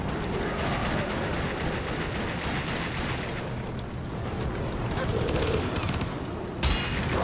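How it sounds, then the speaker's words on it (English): Video game gunfire in a sustained, loud barrage of rapid shots and booms that continues throughout, with a sharp burst near the end. "Stop shooting at me!"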